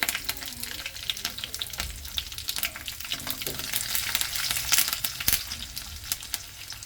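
Curry leaves, dried red chillies and garlic crackle and sizzle in hot oil for a tempering, with dense popping bursts and occasional stirring scrapes, fairly close with no talk.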